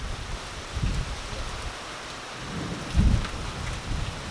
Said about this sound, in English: These storms mean business, folks.